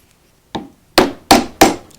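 A hardwood wedge is tapped against a woodcarving tool to drive its handle off: one lighter knock, then three sharp, evenly spaced woody hits, close and alone.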